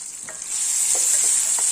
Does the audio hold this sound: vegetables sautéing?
yes